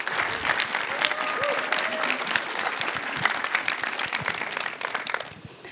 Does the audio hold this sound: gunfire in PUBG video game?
no